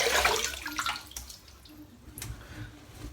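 Tap water runs and splashes as a face is wetted for a wet shave, a brief hissing gush that is loudest at the start and then tapers off into softer trickles and drips.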